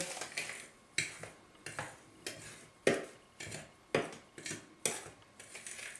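Dry cupcake ingredients being mixed by hand in a bowl for a key lime pie cupcake, a quiet, regular scrape-and-tap rhythm roughly once a second, close and soft with no one talking.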